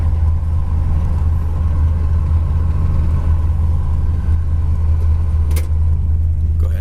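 A 1963 Mercury S33 two-door hardtop with drum brakes slows from high speed, heard from inside as a loud, steady low road and engine rumble with one brief sharp sound near the end, and no talking.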